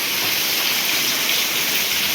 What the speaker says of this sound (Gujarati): કારણ કે વરસાદ ચાલુ જ છે